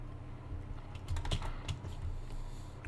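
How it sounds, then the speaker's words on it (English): Steady clicking of a computer keyboard being typed on, with a few louder key strikes near the middle, close by and alone over a low background hum. "Nope, that's the keyboard."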